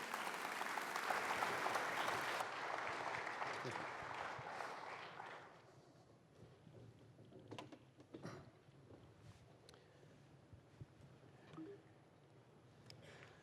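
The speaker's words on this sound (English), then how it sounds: "please give him a round of applause" An audience at an education conference breaks into loud applause that fades away after a few seconds, leaving a quiet room with scattered knocks and small movements.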